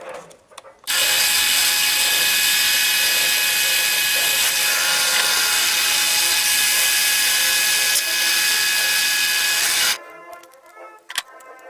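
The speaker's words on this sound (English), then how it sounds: "Then we'll drill the holes." A power drill whines steadily and loudly for several seconds as it bores holes through metal while building a PVC air rifle, then stops abruptly.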